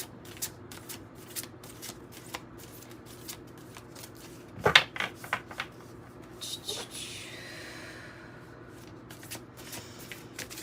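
Tarot cards being shuffled in a quick riffle, a dense crisp flutter near the mic, followed by softer sliding and handling sounds.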